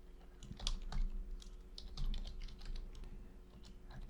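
Typing on a computer keyboard while filling a form on an admin dashboard web page, irregular bursts of close key taps with short pauses, over a low steady hum.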